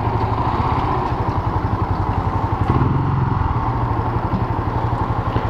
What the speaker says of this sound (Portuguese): Eu vou guardar aqui a moto.